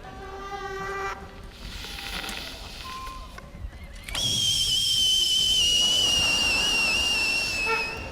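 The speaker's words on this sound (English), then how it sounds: "make some music with this whistle and this kettle and these horns." In a science demonstration, whistles and horns are sounded by carbon dioxide gas pressure. Tones waver at first, then a loud, shrill, sustained whistle cuts in over a hissing rush of gas and holds steady until the end.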